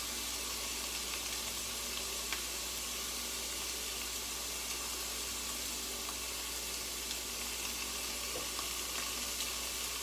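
Country style ribs fry in a pan on a stovetop, giving a steady, even sizzle that stays constant and moderately quiet throughout with faint clicks and no talking.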